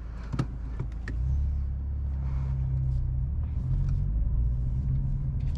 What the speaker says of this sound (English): let's try and listen to that exhaust quickly